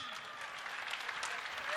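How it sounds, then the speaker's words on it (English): An audience applauds the Minister of Internal Affairs at a formal ceremony, a brief burst of steady clapping from a crowd under a voice speaking. "A round of applause to the Minister of Internal Affairs"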